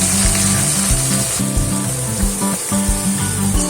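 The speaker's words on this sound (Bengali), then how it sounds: "কড়াই কিছুটা তেল নিয়ে তাতে সামান্য পরিমাণে ঘি দিয়ে পেঁয়াজ বেরেস্তাটা ভালোভাবে করে নিতে হবে" Steady crackling sizzle of onions frying in hot oil and ghee in a kadai, with low thumping and clattering underneath, continuous and fairly loud throughout.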